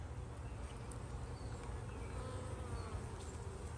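Honey bees swarm around an open backyard hive during an inspection while a deep box is added, making a dense, continuous buzz that surrounds the listener at close range.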